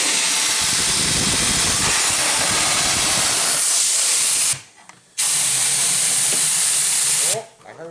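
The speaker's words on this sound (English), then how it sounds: "We're gonna pump some air in there." Compressed air pumped into a gel coat mold for a quarter-scale RC car body, a loud, close, steady rushing hiss that cuts out briefly partway through and then resumes.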